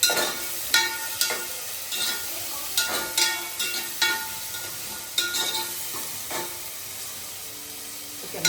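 Green chillies sizzling in hot oil in a pan, stirred with a series of sharp scraping clicks and taps over a steady frying hiss, close and fairly loud.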